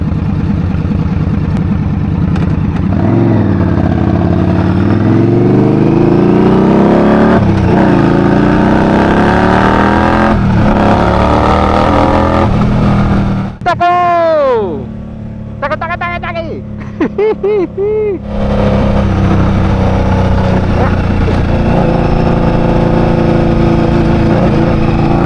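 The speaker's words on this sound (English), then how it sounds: "Already just fucking open this bike up." A motorcycle accelerating on a highway roars loud and close, with engine pitch sweeping upward through repeated gear changes and a sharp rev surge midway before settling into steady cruising.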